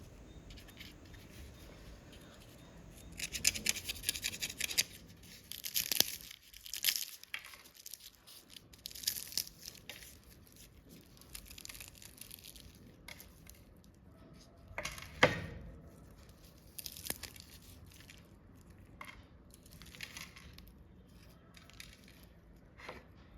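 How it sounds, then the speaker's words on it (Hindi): Crisp crunching and crackling bites of fried potato patties come in bursts, close and fairly loud, with quieter gaps between them and no talking. "तो सुनिए कितना क्रिस्पी बनके हमारे ये पेटीज तैयार हुए हैं।"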